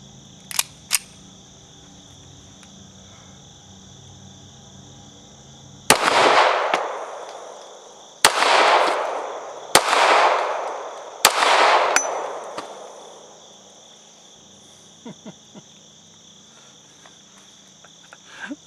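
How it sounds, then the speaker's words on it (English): A Beretta Model 1951 9mm pistol fires four sharp, loud shots outdoors at 2-liter bottles, unevenly spaced, each with a brief decaying echo. Insects chirp steadily in the background. "let's give those 2-liter bottles a whirl with the 1951 Beretta"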